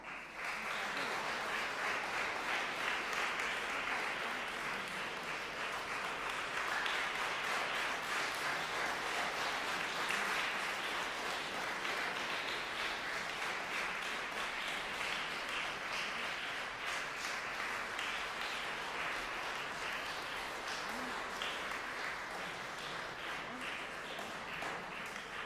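An audience at a concert at the F. Chopin Junior College applauds steadily and evenly for the whole stretch, a dense wash of clapping from many hands heard from within the hall.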